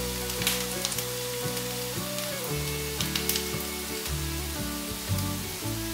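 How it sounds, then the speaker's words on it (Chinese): Tempeh sizzles steadily in a little hot oil in a pan, a soft continuous crackle under prominent background music. "锅内放入少许油，油热了之后放入天贝，把天贝煎香。"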